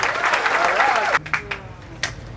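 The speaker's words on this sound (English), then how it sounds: "Give him a round of applause, y'all." Crowd applause for a musician who played organ and background vocals, under music and voices, cut off partway as the sound drops into sparse tones.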